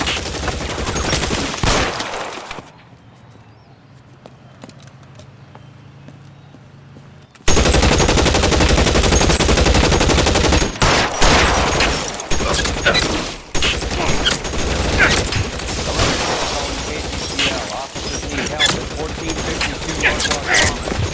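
A shootout in the LA Noire video game, opening with loud gunfire, then a quiet stretch before sustained machine-gun bursts and rapid shots erupt and continue densely with only short pauses.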